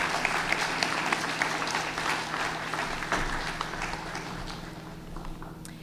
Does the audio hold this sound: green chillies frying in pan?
no